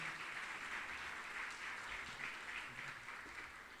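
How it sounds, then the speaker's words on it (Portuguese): A church congregation claps together in steady, continuous applause. The sound is fairly faint and distant and carries on evenly throughout. "Vamos aplaudir ao nosso Deus."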